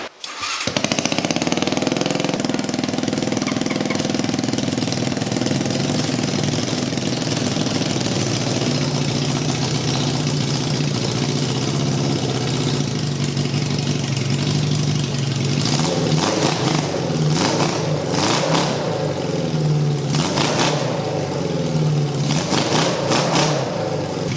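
Suzuki GS550 motorcycle engine fitted in a mini buggy, with one cylinder running cold, idles steadily and loudly up close, then later breaks into several sharp throttle revs.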